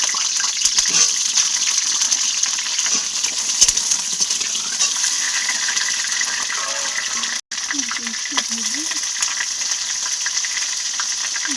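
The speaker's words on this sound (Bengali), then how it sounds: "আমি আলুটা ভেজে নেব।" Potatoes fry in a pan for an egg masala pilaf, giving a steady, close sizzle that runs the whole time, with a brief dropout midway and some soft clatter near the end.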